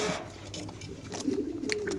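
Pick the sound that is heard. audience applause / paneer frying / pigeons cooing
pigeons cooing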